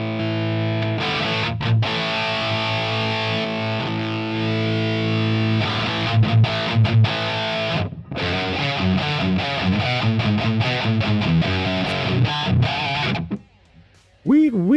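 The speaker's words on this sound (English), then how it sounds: "We could use the MXR Distortion Plus though." Electric guitar run through an MXR Distortion Plus amp-sim plugin, playing sustained distorted chords and then a busier riff with quick stops, loud and saturated throughout, ending with a brief pause and a bending note.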